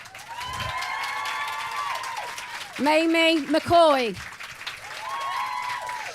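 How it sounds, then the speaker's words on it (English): Audience applause and cheering welcome the cast of The Musketeers onto a stage at a live event. A broad wash of clapping swells in the middle of the clip, while an announcer's voice and other talk run over it from start to finish. "Please welcome on stage with a big round of applause"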